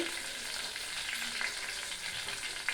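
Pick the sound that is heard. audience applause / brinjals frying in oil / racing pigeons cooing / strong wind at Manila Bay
brinjals frying in oil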